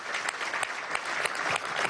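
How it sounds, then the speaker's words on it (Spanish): A crowd at an outdoor government handover ceremony for taxis and buses claps steadily, a dense, moderately loud wash of applause with no break. "Un aplauso para Pastor."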